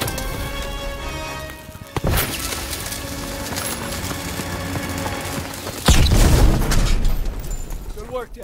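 A thermite charge detonates in the Call of Duty WWII game during a World War II mission: a sharp bang, then a heavier, louder boom with rolling rumble, set within continuous battle noise and shouted voices.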